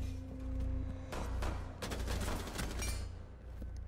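Rainbow Six Siege gunfire rattles in quick bursts of sharp shots, with a dense volley in the middle and scattered cracks after, moderately loud game audio without speech.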